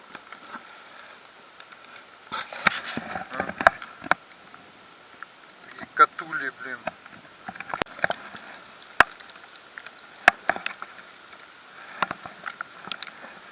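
Hail falling outdoors as sparse, irregular ticks and pattering impacts, fairly faint and close, with scattered brief noises and handling sounds between strikes.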